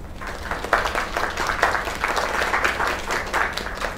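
Sustained applause from a crowd, dense clapping holding steady at moderate loudness for several seconds.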